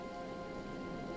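Steady rain falls in a soft, even wash of hiss with no breaks, faint and continuous throughout.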